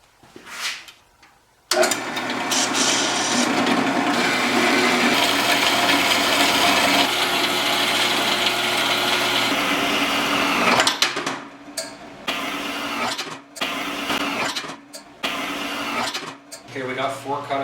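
A power saw cuts aluminum roller stock clamped against a stop set for 3.5-inch pieces, a loud sustained grinding whine for about nine seconds, followed by choppy, intermittent cutting bursts and pauses.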